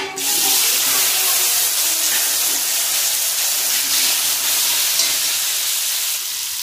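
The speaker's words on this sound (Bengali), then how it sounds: "ফোড়নটা ভাজা হয়ে গেছে, এখন ধুয়ে রাখা আলু দিয়ে দেবো।" Washed potatoes dropped into hot oil with fried five-spice tempering: a loud burst of sizzling and hissing that starts suddenly and continues as a steady, close spray of frying noise, with no talking.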